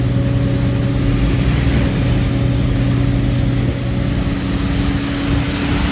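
A wheel loader that scoops rock and sand into the mixers at a concrete batching plant, its diesel engine droning loud and close with a steady low hum and no speech.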